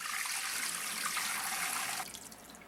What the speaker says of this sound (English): then the broth was strained back into the pot